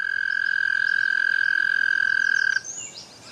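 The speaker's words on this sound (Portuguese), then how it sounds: "um sapo tenta atrair possíveis parceiras." A male frog calls by a lake to attract mates, giving a loud, steady, sustained trill up close that stops abruptly, followed by quieter chirps.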